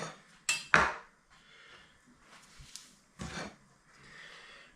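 A cake slice server scrapes and clatters against a plate while lifting a slice of four cheese pizza roly poly, with two sharp metallic clinks at the start, softer shuffling, then another scrape, close and fairly quiet.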